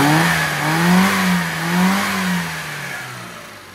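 A classic small car, the little 30, pulls away and revs, its mid-pitched engine note rising and falling in two or three surges before settling. The engine is close and loud, with no talking over it.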